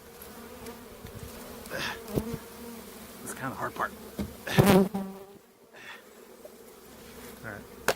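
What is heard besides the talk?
Italian honey bees buzzing, poured out of package box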